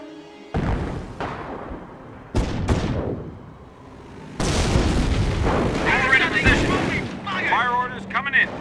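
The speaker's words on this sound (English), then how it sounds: "Fire orders coming in. 25 pounder." Booming 25-pounder artillery rounds in Company of Heroes, several heavy, close blasts a second or two apart, followed by rumbling explosions and crackling debris, with voices talking over parts.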